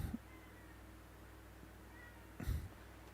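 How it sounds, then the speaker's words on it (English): A cat meows at a door in a quiet room, two faint, brief distant meows spaced a couple of seconds apart over a low steady hum. "It's just the cat's meowing at the door."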